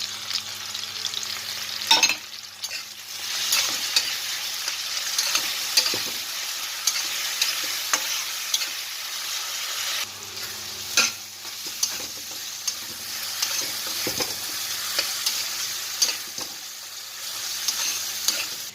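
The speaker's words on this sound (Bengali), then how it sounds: "একটু নাড়াচাড়া করে দিচ্ছি" Chicken mince being stirred in a pan with ginger-garlic paste, onion and tomato: a continuous soft sizzle broken by regular spatula scrapes and taps against the pan, nearby and without speech.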